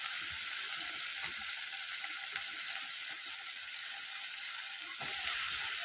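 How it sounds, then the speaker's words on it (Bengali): Vegetables for a vegetarian curry of potato, jackfruit fibres and eggplant fry in a pan with a steady, close sizzle. A faint high whine runs through it and small scraping clicks come through now and then. "এটাকে সুন্দর করে ভাজা করবো"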